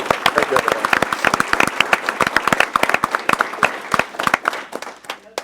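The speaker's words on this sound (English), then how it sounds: "I think one more round of applause for all of" Audience clapping at a school board meeting, sharp individual claps close by over a broader round of applause, with voices talking underneath before the clapping thins out.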